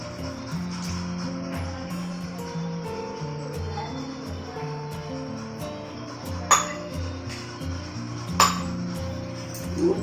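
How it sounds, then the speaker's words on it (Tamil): A ladle stirs coconut oil and milk in a pot, giving a low steady background with a few sharp metallic clinks against the pot, two of them standing out near the end. "ஊற்றி சிறிது நேரம் கரண்டியால் கிண்டவும்."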